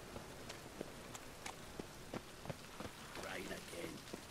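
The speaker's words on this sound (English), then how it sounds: "Yes, it's raining again." Steady rain patters across a surface in the video game The Witcher 3: Wild Hunt, with scattered louder drips, alongside some light footstep-like taps and faint background murmur.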